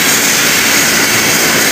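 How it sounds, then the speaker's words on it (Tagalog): A Slovak-made pipe threading machine runs with a loud, steady mechanical whir and broad droning noise, unbroken for the whole moment, with no voices. "itong makina nga pala ito guys ay gawa ng Slovakia"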